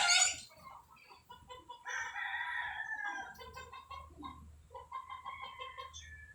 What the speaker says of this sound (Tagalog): Nagdulo ang manok ko.